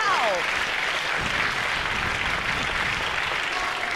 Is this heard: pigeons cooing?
no